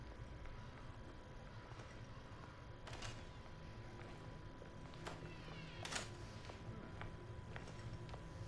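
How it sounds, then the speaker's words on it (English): A cat meows a few times in the video game Hello Neighbor 2, short faint calls rising over a steady low background hum. "my cat Snooky is so cute"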